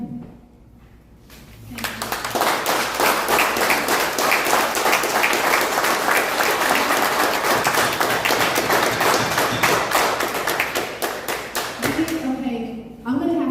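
Loud, sustained applause from a crowd at a Liberty city council meeting, dense clapping rising after a quiet start and holding for about ten seconds before fading as a voice begins speaking.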